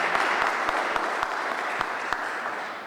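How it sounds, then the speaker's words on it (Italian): An audience at a political panel on working poverty gives applause. Close, sharp individual claps stand out over a softer bed of clapping that slowly fades across the short burst. "Un applauso, grazie."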